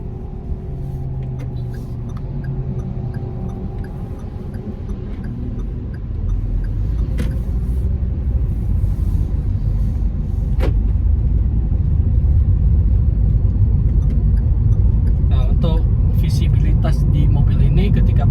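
A 2022 Toyota Veloz drives along a public road, with a low steady rumble of engine and tire noise that swells partway through while someone talks continuously over it.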